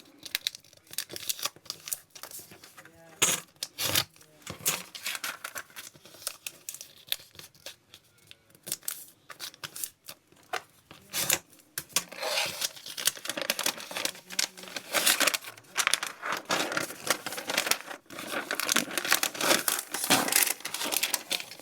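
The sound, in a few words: paper being folded and crinkled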